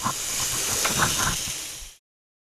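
Honey-mustard glazed pork cutlets sizzle on a grill, a steady close hiss for about two seconds before cutting off abruptly.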